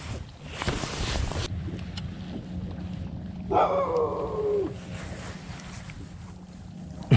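A single drawn-out dog bark rises over steady wind and outdoor rumble at Beaver Lake, Arkansas, during a bass fishing tournament, heard once midway and not repeated.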